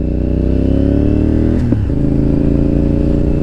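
A motorcycle ridden on a front tire worn bald revs hard and accelerates, its loud, steady engine drone holding near and continuous with a brief shift in pitch partway through, heavy wind and road roar underneath.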